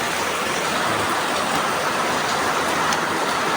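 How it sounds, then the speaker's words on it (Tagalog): Heavy rain pouring down in a dense, steady roar of hiss and spatter, loud and unbroken, with no voices. "Lakas ng ulan, oh."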